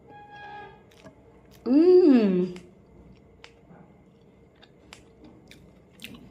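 Someone eats noodles, with soft, scattered chewing clicks close to the mic, broken by a brief loud vocal sound near the start.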